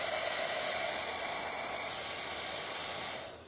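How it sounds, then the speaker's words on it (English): Steady broadband whoosh of a hair dryer blowing, loud and continuous, tapering off slightly at the end. "Now watch my hair dryer."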